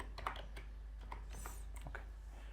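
Light computer keyboard typing during data entry in an Excel spreadsheet, with a series of soft, irregular keystrokes heard over a low steady hum.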